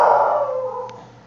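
A dog howls indoors in one long, loud, falling wail that fades away, with a brief click near its end.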